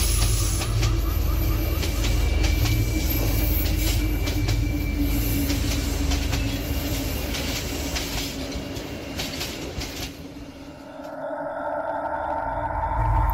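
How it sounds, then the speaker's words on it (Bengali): A cartoon-style train rolls into a station and comes to a stop, a loud continuous rumble of wheels and carriages with faint rhythmic clatter and squeal, easing off near the end as it halts. "খানিক বাদে ট্রেনটি স্টেশনে এসে থামল।"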